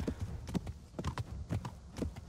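Hooves of a horse galloping in the medieval video game Kingdom Come: Deliverance, a steady run of close, thudding clip-clop beats repeating roughly every half second with no talk over them.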